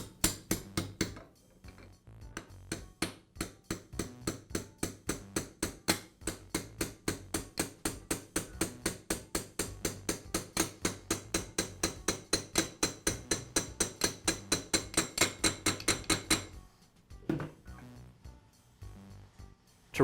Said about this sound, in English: now I can tap the pin the rest of the way into place